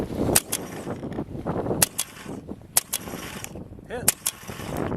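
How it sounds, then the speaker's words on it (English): Paintball gun fitted with a Stella barrel kit being cycled and fired at a target about 100 feet away, sharp snapping pops with mechanical clacks between them, close and loud, with a few faint voices in the background. "We'll have to cycle the gun to get a ball in there since we had the rollout."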